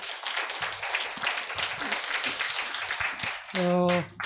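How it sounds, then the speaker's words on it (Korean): Applause from an audience at an online tea culture symposium, steady and dense for several seconds before cutting off as music with a sustained tone comes in. "여러분들 큰 격려의 박수 한번 부탁을 드립니다"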